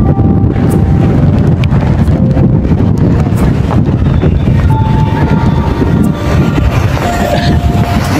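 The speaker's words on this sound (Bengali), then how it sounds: "বাতাসের গতি খুব বেশি" Cyclone Remal's strong wind roars across Halishahar sea beach in Chittagong, a loud, unbroken buffeting rush of gusts hammering the microphone, with no talking.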